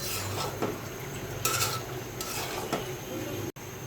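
Raw mango pickle stirred and fried in a pan, a steady soft sizzle with scraping spoon strokes against the pan, continuous and close, with no talking.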